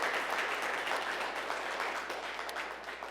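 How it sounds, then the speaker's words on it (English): A crowd at a Chicago Domestic Violence Awareness Month reception applauds with a dense, sustained wash of clapping that fades slightly toward the end, heard at moderate distance without speech. "Could you give them all a round of applause"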